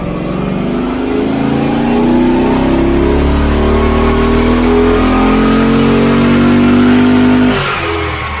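A Hemi car engine on a dynamometer revs hard and holds a high, steadily climbing roar for several seconds, then cuts off abruptly near the end.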